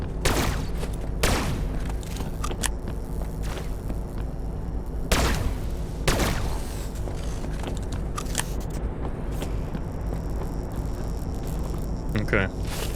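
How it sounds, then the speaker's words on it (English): Rifle fire in the game Everrail: a few loud, sharp gunshots, sometimes in quick pairs, standing out against a steady rumbling game soundscape. A player talks throughout. "The rifle's pretty good."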